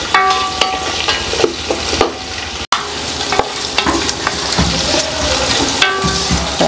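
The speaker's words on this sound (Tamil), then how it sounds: "ஒரு 3 பச்சை மிளகா வந்து சேர்த்துருக்குறோம்." Three green chillies sizzling in hot oil in a pan while a spoon stirs and scrapes through them, a steady close frying crackle with a brief break partway.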